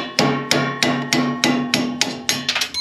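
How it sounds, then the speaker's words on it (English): Hammer striking a metal punch to drive out a snowblower shear pin: about nine sharp, ringing metallic blows at a steady pace, close and loud, with no talk. "Take a hammer."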